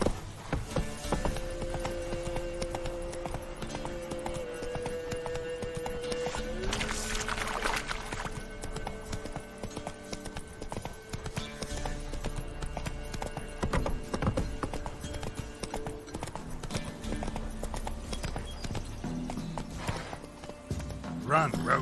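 Roach the horse gallops in The Witcher 3, hoofbeats clopping steadily through the whole stretch beneath game music, with someone talking over it.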